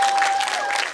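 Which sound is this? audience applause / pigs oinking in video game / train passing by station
audience applause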